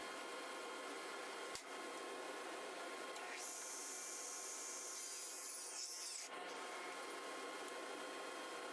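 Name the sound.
table saw cutting walnut into 2 by 2 strips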